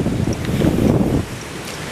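Gusty cold wind outdoors in southern Spain rumbles and buffets the microphone, a rough, low roar that swells in the middle and eases off toward the end.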